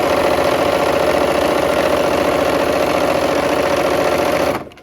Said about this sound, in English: take a few stitches, go ahead and back stitch, and then sew down